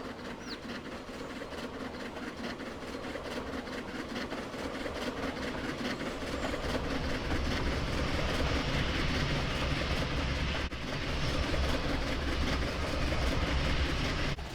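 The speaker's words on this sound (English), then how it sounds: "the engine is passing by a construction site and logging facility. It's hauling a long set of cars here" A locomotive hauls a long line of freight cars past a construction site and logging facility, a sustained rumbling roll with rhythmic wheel clatter building slightly louder midway, steady and unbroken.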